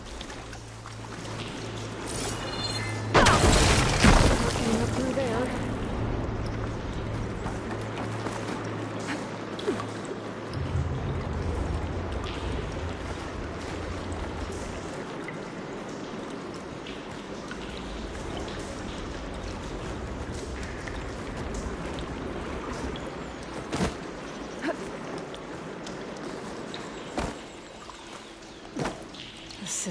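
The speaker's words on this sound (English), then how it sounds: "Get that water circulating." Water rushing through pipes in Horizon Forbidden West, a steady watery hiss and trickle with a loud low gush near the start that later settles, and a brief voice over it.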